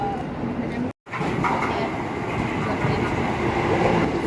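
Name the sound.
KRL commuter train toward Bogor at Nambo station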